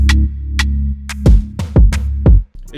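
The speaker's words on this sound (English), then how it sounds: "And on the second part right here, I just have this tom. It sounds like this." Tom drum hits in a rap beat made in FL Studio land as a short sequence of deep, punchy thuds, spaced roughly evenly and accelerating slightly toward the end over a sustained low bass layer.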